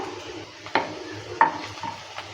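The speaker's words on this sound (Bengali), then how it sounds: "আদাটা দেওয়ার পরে ভালো করে নেড়ে চেড়ে নিচ্ছে রসুন আর পেঁয়াজটা ভাজা হয়ে গেছে" Garlic, onion and ginger fry in a pan while being stirred, a moderate sizzle broken by two distinct scraping knocks of a utensil and lighter stirring sounds.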